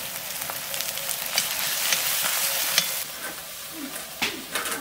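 Turmeric going into a sizzling pan while egg curry cooks, a steady broad frying hiss throughout with light stirring scrapes and a few sharper crackles toward the end.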